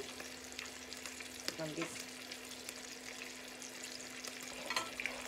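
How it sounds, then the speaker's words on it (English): Trout frying in a pan, a steady broadband sizzle with faint stirring clatter throughout, fairly quiet and close, with brief talk near the middle. "This is the fish frying"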